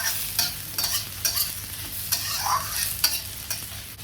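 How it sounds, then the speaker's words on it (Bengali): Onion and garlic fried and stirred in a pan for a bhindi masala, a close steady sizzle punctuated by rhythmic spatula scrapes about every half second, with no speech. "এবার এই পেঁয়াজ রসুনটাকে ভালো করে একটু নাড়াচাড়া করে নিতে হবে"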